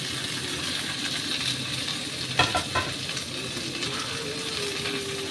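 Fried okra sizzles steadily in a pan while a utensil stirs it, with a couple of sharp scraping clinks partway through.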